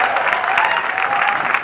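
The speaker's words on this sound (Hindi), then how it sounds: "आप सब अपने लिए एक जबरदस्त तालियां बजाइए" A crowd at a motivational speaking event bursts into loud, dense applause, sustained and close for under two seconds with no break.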